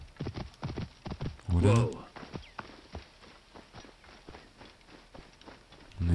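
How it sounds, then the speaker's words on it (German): Horse hooves clip-clop in a quick, regular rhythm as a horse is ridden in the video game Assassin's Creed Origins, with a louder thump partway through and someone speaking briefly. "Jetzt an die Spitze der Insel reiten"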